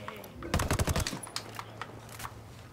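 Gunfire in Ghost Recon Wildlands: a rapid burst of loud automatic shots, then a few scattered single cracks trailing off over a faint background hum.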